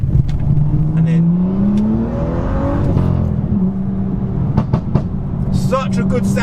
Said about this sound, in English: such a good sounding car.